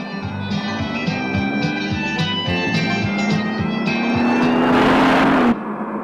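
A car drives fast in a 1984 action film, its engine note loud and close and steadily climbing in pitch as it speeds up, with a rushing surge near the end and no talk over it.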